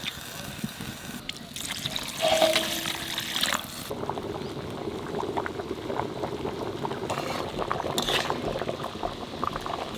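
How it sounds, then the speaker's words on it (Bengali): Water is poured into a pan of potato curry with fish, a close splash followed by steady bubbling simmer and occasional stirring clinks. "এখানে জল দিয়ে দেবো। এইরকম আর একটু জল দিয়ে দিই।"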